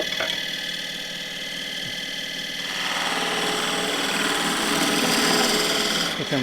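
Lathe tool cutting a starter groove into a tall spruce goblet, a steady close whirring scrape with buzzing tonal hum that grows rougher and louder halfway through, no talk.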